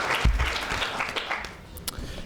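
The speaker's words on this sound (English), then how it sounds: "So another round of applause." Audience applause at a student union excellence awards ceremony, a brief burst of clapping that swells and then thins out, moderately loud and fairly close.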